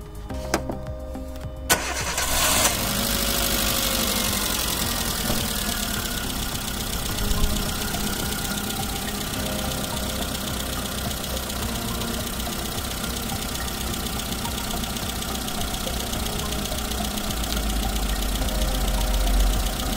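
A car engine cranks briefly and catches during a battery tester start test, then settles into a steady, fairly loud idle that runs on evenly with no talk.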